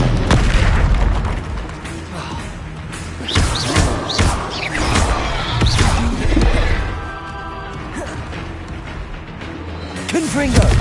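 Heavy booming blasts and crashing thuds from the Confringo fire spell in Hogwarts Legacy, several impacts spread across the stretch, loud and close, layered with game voices and shouting.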